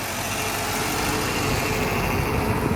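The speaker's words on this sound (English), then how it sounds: "It's powered by the ever popular 5-liter engine." A 1995 Mustang GT 5.0-liter V8 engine idles with a steady, even rumble, close by and constant, with no other sounds.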